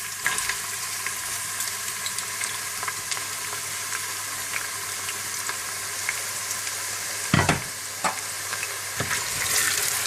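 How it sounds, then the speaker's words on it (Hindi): Chopped onions sizzle steadily in hot desi ghee, a dense continuous frying hiss with a few sharper crackles and stirring scrapes, close and alone without voices. "देसी घी में आप प्याज डाल लें।"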